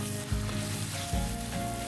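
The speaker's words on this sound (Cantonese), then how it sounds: "輕輕你煎一煎佢嚇" Chicken frying in plenty of oil in a wok for Kung Pao chicken, a steady close hiss of sizzling with a couple of soft stirring bumps, no voices.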